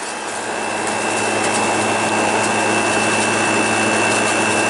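An Arctic King WWK05CM71N window air conditioner with a GMCC compressor runs harshly, giving a loud, steady, unbroken drone and hum close up.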